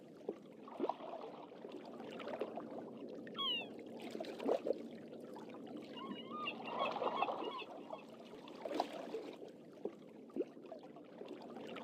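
A bird clucks and squawks in the adventure game The Longest Journey, a few short calls rising over a steady background of ambient game sound.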